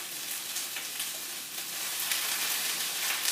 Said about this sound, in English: And it's frying up nicely.